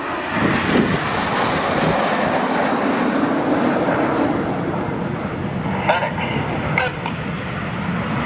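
A Red Arrows military jet roars overhead during a 4G turn at the Perth airshow, a loud, sustained rush of steady broadband engine noise with slight surges, as a distant commentator's voice carries faintly beneath it.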